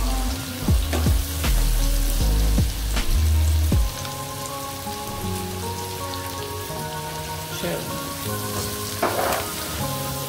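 Pasta with spices frying in a pan, a dense sizzling crackle with rain-like patter, louder at first and then settling to a steady fry, with no talking.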